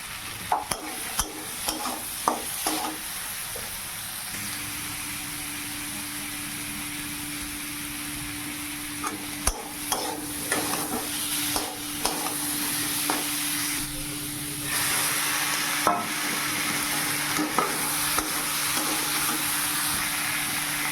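Potatoes being stirred and sautéed with salt, turmeric and chilli, then beans and fried eggplant, in a pan: a steady sizzling hiss runs throughout, with repeated clinks and scrapes of a spoon against the pan, close and fairly loud, no talking.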